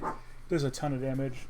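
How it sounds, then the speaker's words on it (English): A pet dog barks in a few short, close yelps while someone talks over it. "That's my dog."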